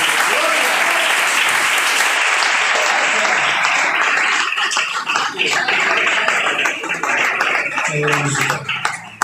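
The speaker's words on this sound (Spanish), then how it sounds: "Dale un fuerte aplauso al Señor" Loud, dense applause from a church congregation, with scattered voices and shouts mixed in, thinning out toward the end.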